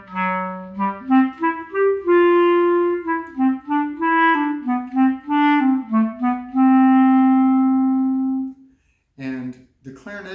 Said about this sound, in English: One of the reasons I like playing the clarinet is because it has a really dark, mellow sound